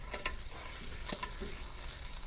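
Ingredients for a pasta sauce sizzle in a frying pan while a spatula stirs and scrapes them, giving a steady crackling hiss up close with brief scraping strokes and no talk.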